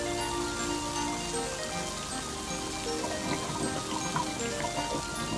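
Steady rain falls on a roof and runs into an overhead gutter, a continuous dense patter with a few brighter drips, fairly close and alone without voices.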